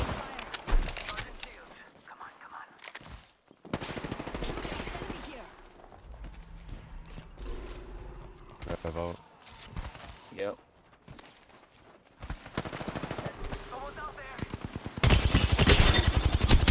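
Automatic gunfire from the Apex Legends video game crackles in bursts across the clip, mixed with footsteps, game effects and a loud closing volley, while players talk over it.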